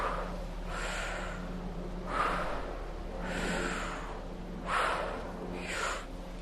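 Slow, deep yoga breaths, about five long inhales and exhales, each an airy rush of breath close to the microphone, alternating in a calm, even rhythm over a faint steady hum.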